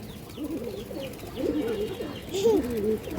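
A large female Pankhi pigeon coos in a steady run of soft, rolling low calls, close by, with faint background noise and no talk.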